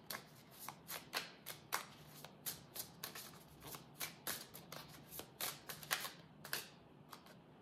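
Tarot cards being shuffled by hand, a quiet, close series of crisp riffling snaps and slides repeating in a steady rhythm with no talk.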